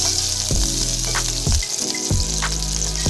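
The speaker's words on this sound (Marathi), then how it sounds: "त्याच्यावरती ही शेवई भाजून घेते छानशी" Vermicelli roasts in homemade desi ghee in a hot pot, a loud, even frying crackle broken by three or four scraping stirs of a spoon against the metal, no voices.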